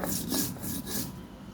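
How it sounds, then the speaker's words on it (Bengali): Dried chili is ground by hand on a stone slab and roller, giving close, rhythmic rasping strokes, about four quick back-and-forth scrapes before fading. "আমি শুকনো মরিচটা বেটে নিলাম"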